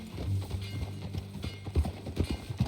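Horse hooves clip-clop in Red Dead Redemption 2 at a steady, moderately close walking rhythm. The sound is fairly quiet, with a low hum underneath.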